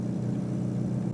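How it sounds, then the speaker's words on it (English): Engine and induction noise from a classic Austin Mini 30 Edition while driving, a steady low throaty drone with a faint rising whir, heard from inside the car without talk. "Listen to that induction noise."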